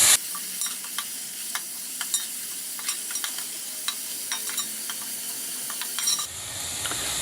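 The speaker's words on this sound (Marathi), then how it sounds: "हा कांदा आता आपल्याला छान असा भाजून घ्यायचा आहे" Two medium onions, finely chopped, frying in a pan for a chicken masala, giving a steady soft sizzle with scattered stirring and scraping clicks close by; the sizzle drops away near the end.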